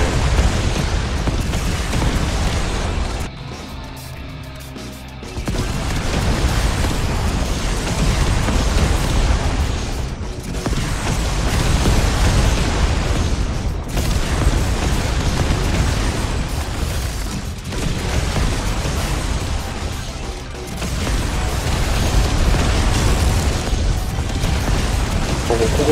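Air strike explosions from a tank and rocket launcher in Yet Another Zombie Survivors, a dense, continuous barrage of loud booms and bursts that dips only briefly a few times, with voices talking beneath.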